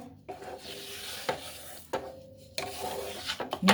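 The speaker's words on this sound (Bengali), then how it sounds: "এবার এটা ভালো করে মিশিয়ে নেবো" Sugar is stirred into a grated cabbage sandesh mixture in a pan, with repeated close scraping and rubbing strokes of a utensil, each a gritty swish separated by short pauses, no voices.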